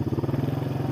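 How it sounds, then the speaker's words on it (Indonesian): A Honda Supra motorcycle riding along a village road, its engine putting out a steady, close, pulsing drone throughout. "Seperti biasa kita memakai motor andalan bapak ya, Supra bapak."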